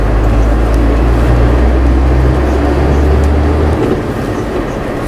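Sinotruk Howo T7H 440 HP 8x4 dump truck driving under load, its heavy diesel engine drone steady and loud with rumbling low tones that shift as gears change, a continuous close-up cab roar.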